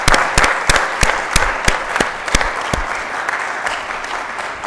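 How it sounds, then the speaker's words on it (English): An audience applauds the Xilinx CEO at the NASDAQ opening bell event, dense clapping with several loud close claps standing out, fading slightly toward the end. "Let's give a round of applause for Moshe being here today."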